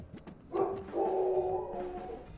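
A dog in a video game lets out a short bark followed by a longer, drawn-out bark-howl, moderately loud over quiet game background.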